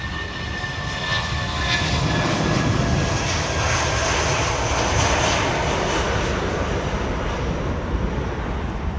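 An Airbus airliner arrives on runway 27R, and a loud, steady jet roar holds for the whole stretch, broad and continuous with no talk over it.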